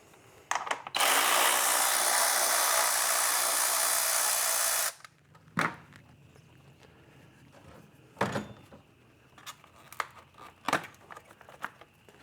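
A power tool whirs for about four seconds, loud and close, while backing out an engine cover bolt on an FL5 Civic Type R; scattered clanks and handling noises follow.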